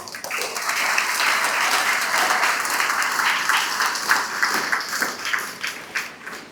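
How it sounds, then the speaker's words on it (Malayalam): An audience claps and cheers at an anti-drug rally held in the rain, a dense burst of applause that swells quickly, holds steady for several seconds, then thins into scattered individual claps. "നമുക്ക് എല്ലാവർക്കും ഒന്ന് കൈയടിക്കാം"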